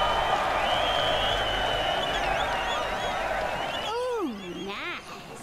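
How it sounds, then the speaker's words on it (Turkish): In the video game Road 96, a crowd cheers in a dense, steady roar that holds for about four seconds before thinning out as a single voice breaks through near the end. "Tezahürat."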